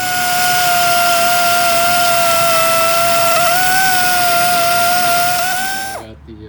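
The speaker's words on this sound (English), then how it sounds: "I'm going to ground a little bit of clearance on the back of the intake" A grinder cuts clearance into the back of an engine intake near the oil pressure fitting, giving a loud, steady high-pitched whine that holds for about six seconds before cutting off abruptly.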